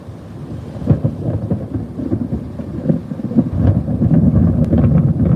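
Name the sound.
thunder during storm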